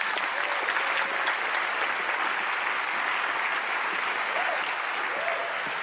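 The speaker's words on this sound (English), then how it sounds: "let's give her a big round of applause." A studio audience at a magic show claps steadily throughout, a dense continuous wash of applause with faint voices and brief whoops mixed in.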